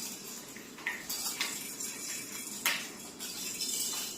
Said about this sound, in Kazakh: Қасықтар ұрады.